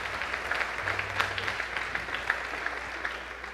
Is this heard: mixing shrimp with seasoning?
no